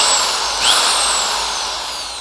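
An electric drill for boring into wood, metal or plastic runs steadily at high speed, a loud continuous whine with a slight rise in pitch partway through, heard alone.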